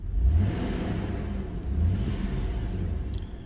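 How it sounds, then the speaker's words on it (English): A Toyota 4Runner engine, after a tune-up and throttle body replacement, idles with a low rumble, then revs up twice in quick surges before settling back to a steady idle. "I can hit the gas pedal and she revs up."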